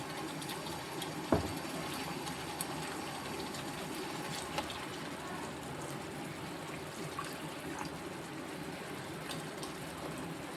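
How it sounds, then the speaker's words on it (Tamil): Water is poured into a simmering South Indian mango curry (mambala kulambu) with ground coconut, a steady broadband rush with a few soft knocks of utensils, heard alone at moderate closeness. "நம்ம குழம்புக்கு கொஞ்சம் தண்ணியை ஊற்றிக்கிற வேண்டியதான்"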